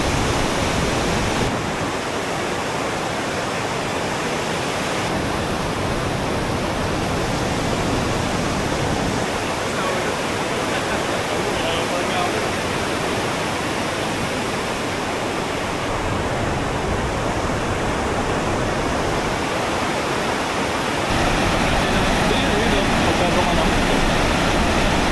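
Strong rushing water at Wawa Dam in Rodriguez, Rizal: a loud, continuous broadband roar of torrent and falls, steady throughout with no breaks.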